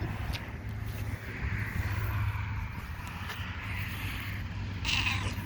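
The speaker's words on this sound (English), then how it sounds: "Oh, there's Grumpy Cat." A cat meows faintly a few times over steady outdoor background noise with a low hum.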